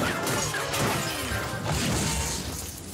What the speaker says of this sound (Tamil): நம்ம கார் உடைஞ்சு போச்சு